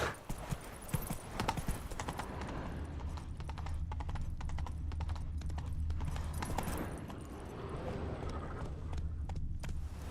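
Roach the horse gallops in Witcher 3, rapid rhythmic hoofbeats pounding continuously over a low rumble, with a brief snort and a voice speaking faintly early on.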